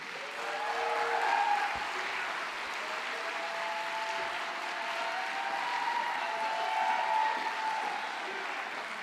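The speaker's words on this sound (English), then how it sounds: "give her a warm round of applause" Sustained audience applause from a keynote crowd, a broad steady clapping wash that holds at even strength for several seconds with no voices over it.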